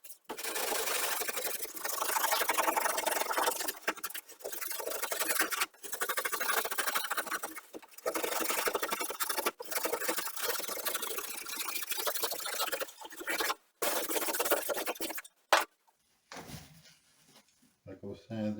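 Rough-cut foam walls of a foam camper trailer insert are being smoothed with repeated scraping and rasping strokes, loud and close, in long bursts separated by short pauses, ending in a few sparse scrapes.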